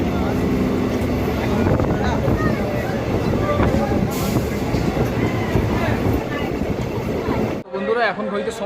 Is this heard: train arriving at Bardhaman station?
yes